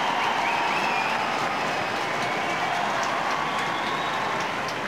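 A stadium crowd at the Dublin horse show applauds steadily for a rider on his victory ride, a dense, continuous wash of clapping and cheering that holds at an even level throughout.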